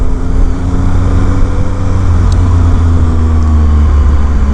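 A 2019 Triumph Speed Triple RS motorcycle engine drones loudly and steadily while riding, a low, even hum with wind noise and no pauses.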